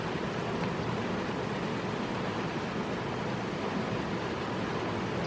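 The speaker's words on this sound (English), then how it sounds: "It's raining and the sun is out" Rain falls steadily outdoors while the sun is out, a soft, even hiss of drops with no breaks, fairly quiet and alone without any talking.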